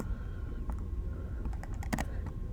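Keys on a computer keyboard are tapped in a short, quiet burst of uneven clicks, close by and without talk.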